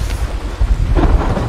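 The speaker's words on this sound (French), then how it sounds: "t'as vu l'orage un peu?" Low rumbling thunder and rain hiss from a thunderstorm in a zombie-fighting video game, a steady loud wash with a swelling roll near the end, no voices.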